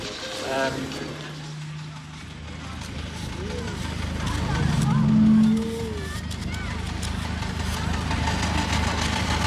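A model Garrett steam traction engine runs with a steady low drone throughout at an outdoor steam and agricultural show, with people talking over it at close range.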